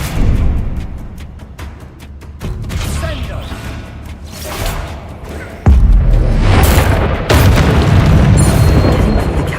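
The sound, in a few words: Bombarda explosion spell in a Harry Potter video game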